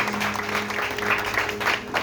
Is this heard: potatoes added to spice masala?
no